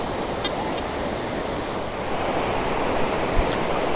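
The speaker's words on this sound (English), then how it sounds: "we're in the surf" Steady ocean surf washes in continuously at the beach during saltwater metal detecting, a broad constant roar of breaking waves with some wind noise on the microphone.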